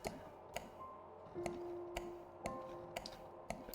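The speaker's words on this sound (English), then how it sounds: "It's such a nice click sound." Crisp clicks from the game Lost Wiki: Kozlovka, sharp separate ticks at an even pace of about two per second over a quiet background, with no talking.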